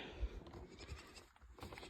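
Sheep in a village farmyard bleat faintly in the distance, a couple of low calls rising above soft background rustle and wind.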